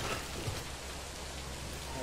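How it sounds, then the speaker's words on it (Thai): Steady rain falls in the video game Dead by Daylight, a dense continuous hiss of drops with a faint low rumble underneath, heard without any talk. "ยังไงฝนก็ไม่หยุดอ่ะ"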